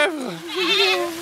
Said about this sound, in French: Ils ont oublié 2 chèvres!